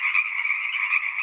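A frog croaking in a single continuous trilling call, clear and close, with no other sounds around it.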